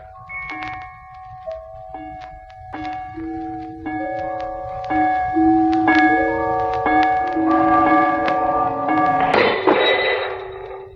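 An old, disused bell swings and rings in a series of clear struck tones, starting slowly with spaced strikes and then growing denser and louder as overlapping ringing builds toward the end over a low rumbling background.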